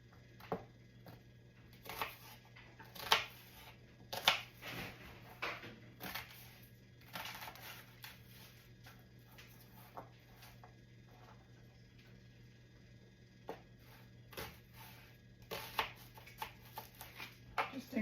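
A knife chopping an onion into large chunks on a cutting board in a home kitchen, with irregular clusters of sharp cuts and taps close by, separated by short pauses.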